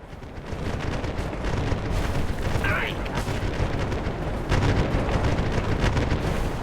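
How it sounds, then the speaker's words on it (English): Booming explosions from a bombing run in the pirate game Republic of Pirates rumble continuously, a dense, heavy barrage of blasts and low thuds filling the whole stretch with no pause. "they're gonna basically come in and start bombing the crap out of these guys right now"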